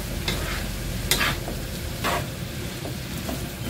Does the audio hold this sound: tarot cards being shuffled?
no